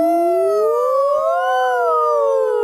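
A voice imitates a siren with a wavering, rising and falling wail that sweeps up and down in pitch for nearly three seconds, loud and close with no other sound.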